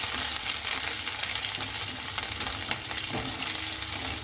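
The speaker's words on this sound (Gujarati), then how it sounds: "તો તેલ ગરમ થઈ ગયું છે, તો એમાં 1 મોટી ચમચી જેટલી આદુ લસણની પેસ્ટ એડ કરી દઈશું" A large spoonful of ginger garlic paste sizzling in two spoonfuls of hot oil, a close, constant hiss with faint stirring scrapes and light pops, heard alone without any voices.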